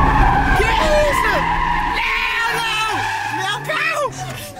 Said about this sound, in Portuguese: Nossa, um burnout.